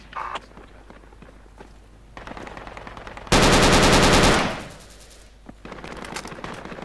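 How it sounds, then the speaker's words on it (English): Gunfire in the video game Project Reality on the snowy Dovre Winter map during infantry squad play: scattered lighter shots and footsteps, then a loud, sustained automatic burst that fades out before the quieter sounds return. "they're firing at you"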